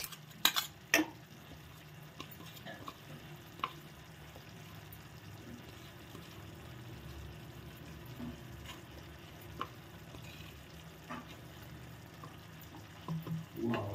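Ground coconut paste is stirred with spices in a cooking pot, giving soft, faint scraping and clinking with a few sharper knocks of utensil on metal.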